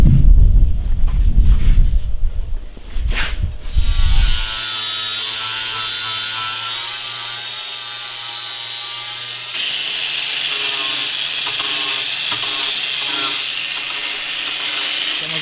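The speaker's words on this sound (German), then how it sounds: "Vielleicht schon mal ein paar Löcher bohren." A power tool drills holes down to the floor of a twin-engine car. Rough grinding and scraping come first, then a steady high whine that shifts pitch partway through.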